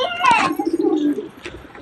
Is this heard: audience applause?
no